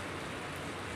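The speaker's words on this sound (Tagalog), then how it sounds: "Umuulan dito, guys." Steady rain falling outdoors during the first June rainfall, a continuous even hiss of moderate drops with no talk.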